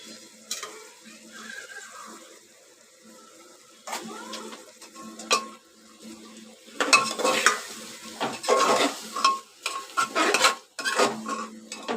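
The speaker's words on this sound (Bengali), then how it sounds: "এবার কষাতে থাকবো।" Soybean curry with tomato sauce being stirred and sautéed in a pan, with scraping and clinking of a utensil against the pan and occasional sizzling bursts, close and moderately loud, with no talk.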